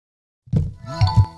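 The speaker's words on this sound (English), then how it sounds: "Thankfully, there's a chime to let you know" A short confirmation chime from a Meta Quest Pro charger: a soft plop followed by a couple of quick bright tones, close and clear after a moment of silence.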